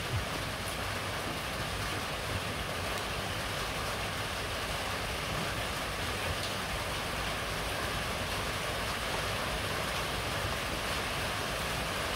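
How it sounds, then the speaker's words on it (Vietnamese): Rain falls on a rainy day in Vietnam as a steady, even hiss that fills the background without a break, with no voices. "Đây là hôm nay là Nemo nó lại trúng vào cái ngày mưa"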